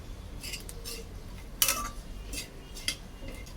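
Milk powder is stirred and roasted in a pan for a semolina and fresh coconut kheer, giving soft scraping with a few sharp metallic clinks of the spoon against the pan, close and intermittent over a low background hum, with no talking.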